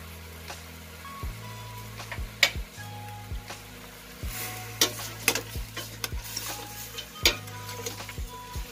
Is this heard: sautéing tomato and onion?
yes